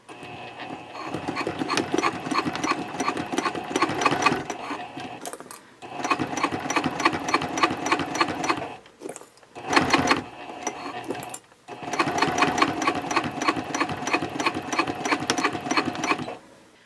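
A sewing machine topstitches the binding of a Cordura fabric trifold wallet at a long stitch length, running in three long steady bursts separated by brief pauses, with backstitching. No one speaks.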